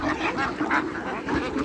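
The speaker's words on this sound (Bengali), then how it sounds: "এখানে দেখেন হাঁস মুরগি সবগুলোকে একসাথে খাবার দেওয়া হয়েছে।" Ducks quacking on a poultry farm in Saudi Arabia where ducks and chickens are fed together, a dense, close chorus of overlapping quacks over a brief stretch.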